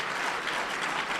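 Brief, faint applause from a lecture audience, a soft patter of clapping that lasts only about a second.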